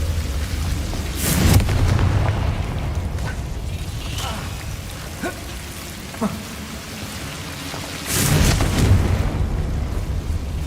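A Confringo explosive spell bursts in Hogwarts Legacy, two loud broad blasts with rumbling tails about seven seconds apart, separated by quieter game ambience with small clicks.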